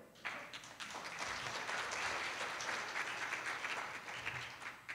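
Audience at a Japanese Communist Party speech meeting in Izumo applauds in a hall, a soft but dense wash of clapping that swells and holds for several seconds.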